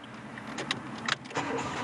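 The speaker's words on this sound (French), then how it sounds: "C'est une voiture de location, elle ne veut plus redémarrer." A rental car that will not restart after filling up with diesel at a service station, with faint clicks, brief mechanical clunks and short starter-like bursts over a quiet background, no talk.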